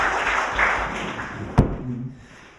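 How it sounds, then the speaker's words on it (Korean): Audience clapping at a Korean panel forum on revising the basic law for settling past history, a dense patter that fades out with one sharp thump near the end. "박수 부탁드리겠습니다."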